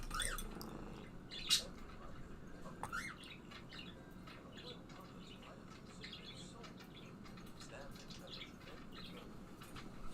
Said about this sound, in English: I have birds, and there's nothing I can do to shut them up